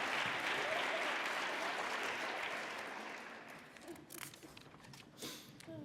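Audience applause at an academic awards ceremony, a dense, steady round of clapping that gradually fades over several seconds, leaving scattered claps and room noise.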